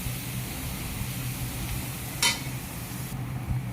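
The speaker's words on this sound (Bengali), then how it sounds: "এখন এখন আস্তে আর 2-3 বার নাড়া দিই, নামিয়ে নেবো আমরা শাকটাকে" Radish greens frying in a pan under a soft, steady sizzle, with one sharp scrape of a spatula partway through and no talking.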